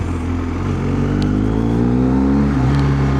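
BMW R1250GS Rallye TE motorcycle with an Akrapovic exhaust, a loud close-up engine rumble that holds steady, then swells and shifts pitch as the bike pulls away, with faint pops.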